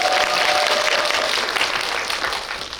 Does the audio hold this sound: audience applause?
yes